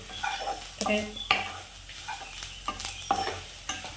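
Spices sautéed in a pan for chicken kondattam, with a soft background sizzle under several distinct scraping and clinking stirring strokes of a utensil against the pan, close and moderately quiet.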